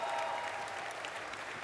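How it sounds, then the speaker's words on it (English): A short, faint burst of audience applause at a Blizzard cosplay costume contest stage at gamescom 2017, a soft, diffuse patter of many hands lasting under two seconds. "Big applause."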